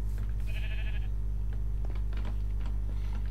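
A sheep bleats in the Minecraft video game, a short wavering bleat near the start over a steady low hum, followed by faint clicks and quiet game sounds.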